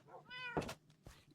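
A cat in the Minecraft video game gives a short, clear meow, followed by a couple of brief game sounds, with no talking.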